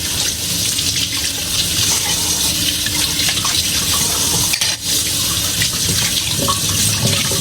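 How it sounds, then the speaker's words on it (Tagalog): Tap water runs steadily and loudly from a sink faucet while plates are washed after a meal in a Hong Kong home, a continuous splashing hiss with no talk. "After natin kumain, so magugas tayo ng plato."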